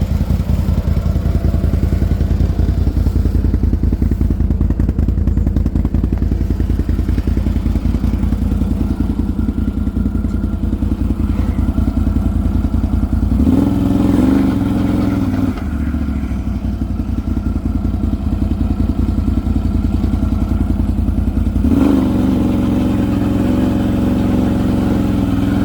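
A four-wheeler ATV drives across a pasture, its mid-pitched engine running in a steady, close drone with some clatter, briefly revving and shifting at two points, and no talk over it.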